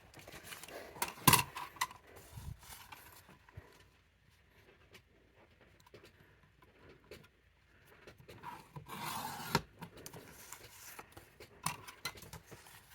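Trimming the margins off a junk journal paper page by hand: soft scraping and rubbing of paper, with a few sharper rustles and a louder burst near the end, close and quiet.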